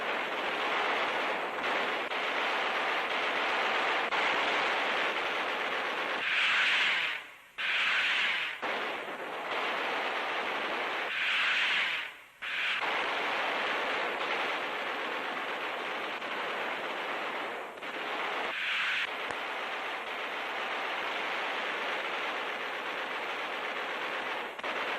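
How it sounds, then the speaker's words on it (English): Rapid anti-aircraft barrage from a 1944 wartime newsreel, dense continuous gunfire pounding skyward with sharp bursts standing out, loud and sustained with brief lulls throughout. "This is a sample of the terrific barrage now being hurled skyward to meet the enemy's raiders."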